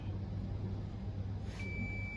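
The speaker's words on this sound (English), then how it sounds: "So a beep sound means there's continuity." A multimeter continuity-test beep during a broken motherboard repair: a single steady tone rises out of constant low hum and background noise and holds to the end, with no talk.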